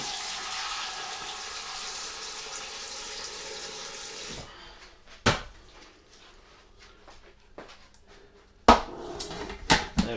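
Hot and cold water run together from a kitchen tap into a container as a loud, steady rush for about four seconds. The flow then cuts off, followed by a few sharp knocks and clunks nearby.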